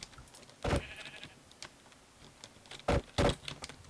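Sheep bleating in the Minecraft video game during a football-style match, with two bleats in quick succession near the end and an earlier one, loud and close against a quiet background.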